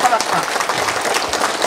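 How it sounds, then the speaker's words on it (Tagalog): Audience clapping at a Christmas gathering, a dense patter of many hands that stays steady and fairly close for the whole moment, with some voices mixed in. "Papasko nga palakpak."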